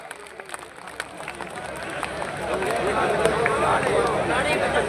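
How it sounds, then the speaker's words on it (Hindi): Crowd at a temple night-vigil event breaks into applause to welcome a guest, starting with scattered claps over murmuring and building into steady, louder clapping. "सभी पीछे भाई जो बैठे हैं पीछे तक सभी जोरदार तालियों से इनका स्वागत करेंगे।"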